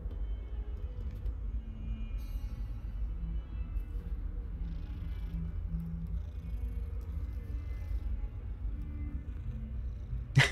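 A cat in the video game Hogwarts Legacy purrs softly and steadily, a low continuous rumble throughout, ending with a brief sharp click.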